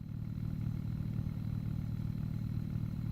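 An engine in the video game Scrap Mechanic runs at a steady, low idle-like drone, faint and unbroken, with no talk over it.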